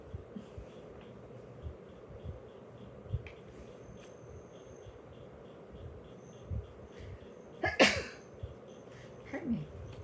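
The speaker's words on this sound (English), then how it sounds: "I think I'm going to sneeze." A single sharp sneeze bursts out near the end, followed by a brief lower sound, set against quiet room noise with scattered small movements and faint insect-like ticking.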